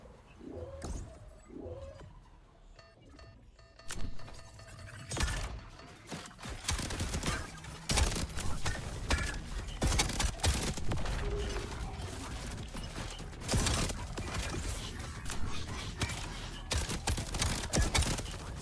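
Double-barrel shotgun blasts in a first-person video game, a dense run of loud, sharp shots firing in quick succession over a busy game mix, with reload clatter and other game effects between them.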